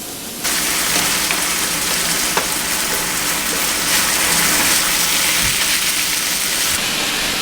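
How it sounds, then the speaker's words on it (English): Ground beef and diced onions frying in a pan for Peruvian papa rellena, a loud, steady, close sizzle that starts abruptly and runs continuously, without any talking. "You're gonna cook your onions until they're translucent and then add your ground beef"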